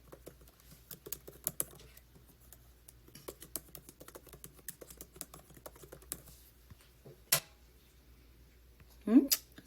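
Rapid, uneven keystrokes on a computer keyboard while logging in with a username and password, the close clicks pausing now and then, with a few louder taps and a brief voice near the end.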